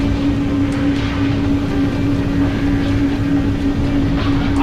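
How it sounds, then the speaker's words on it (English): Sci-fi facility machinery in a video game powering up its lasers and opening its intake valves, heard as a loud, steady mechanical drone with a constant low hum that holds evenly throughout. "it activates the lasers before it does the intake valves"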